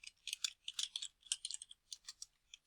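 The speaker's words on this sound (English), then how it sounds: "After the paragraph, you'll press enter 2 times, type in the writer's name." Quick bursts of keystrokes come from someone typing on a computer keyboard, crisp close clicks in uneven clusters with brief pauses, quiet overall and with no voice.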